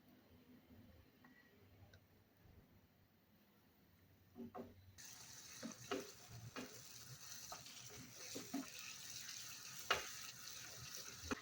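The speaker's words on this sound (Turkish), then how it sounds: "Şimdi güzelce bir soğanlarımızı kavuralım" Onions sautéing in butter with a little oil for a regional Turkish herle soup, a soft sizzle that starts quiet and grows louder partway through, with occasional scrapes and taps of a spoon stirring the pan.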